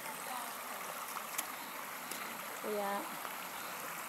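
Water runs steadily over stones in the middle of a rocky, moss-lined creek, a continuous close trickling wash with a brief spoken word partway through.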